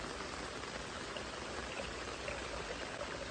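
Floodwater, overflow from a hill above, rushes through a drain filled right to the top, making a continuous, loud broadband gush of churning water, close and unbroken, with no voices.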